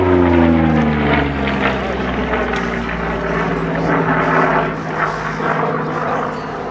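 A Yakovlev Yak-9U-M propeller fighter roars past at an airshow in Dittingen, its loud engine drone sliding down in pitch as it sweeps by, then easing off slightly while still audible.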